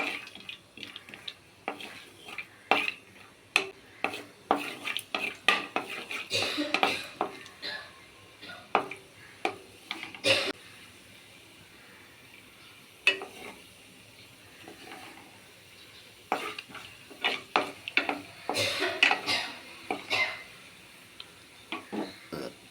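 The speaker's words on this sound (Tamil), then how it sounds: "முந்திரியை பொடிசாக கட் பண்ணி வச்சுருக்கேன் அதில் அதில் போட்டு வறுத்துக்கலாம்" Chopped cashews roasting in ghee in a pan, giving a run of close metallic scrapes and stirring clicks over a soft sizzle, with sharp utensil knocks coming in irregular bursts and no talking.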